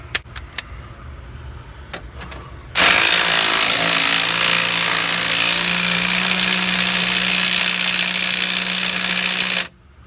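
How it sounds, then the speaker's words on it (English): An impact wrench fires one long continuous burst of about seven seconds, loud and close, tightening a lock nut on the suspension of a 1988 Starion in a garage, after a few quiet metallic clicks and handling noises. "put that lock nut on there and hit it with an impact real quick"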